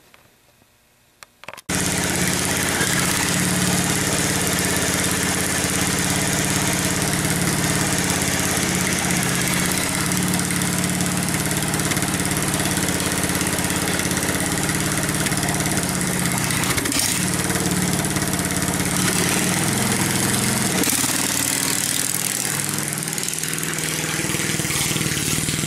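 A shifter kart engine starts and settles into a loud, steady idle with a throbbing low drone and buzzy rattle, running close and uninterrupted for over twenty seconds with no talk.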